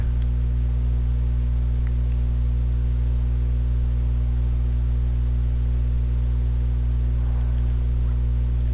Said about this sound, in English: This is a really cool sounding tractor.